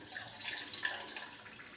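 Water trickles and splashes into a soda can being rinsed out, a light, continuous pouring with small gurgles close by.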